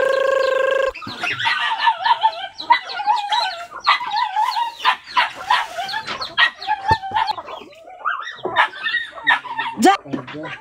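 Chickens cluck and squawk busily up close, with a rooster crowing among the flock; the calls overlap in a lively, continuous chatter.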